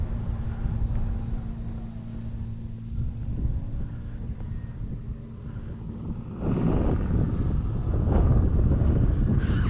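Parkzone T28B radio-controlled model plane flying in wind, its small electric motor droning steadily with gusty wind noise on the microphone, growing louder and nearer in the final few seconds.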